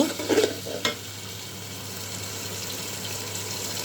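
Meat frying with salt in a pot for biryani, a steady close sizzle with a few stirring scrapes near the start, then an even hiss, with no talking.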